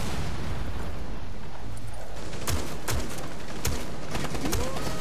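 Gunfire in Rainbow Six Siege, several sharp shots cracking over a dense rumbling backdrop of explosions and game noise, loud and close.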